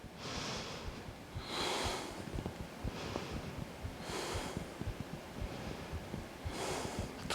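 A person breathing slowly during a yoga session, with several audible breaths in and out, each a soft airy rush with a nasal edge, spaced a second or two apart, close to the microphone and with no talk.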